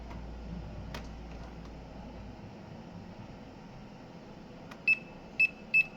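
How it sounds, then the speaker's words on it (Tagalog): Three short, sharp electronic beeps near the end come from a voltage-tester buzzer touched to a burnt electric meter base terminal, following a faint low hum and a few light clicks. "Basta buzzer lang siya."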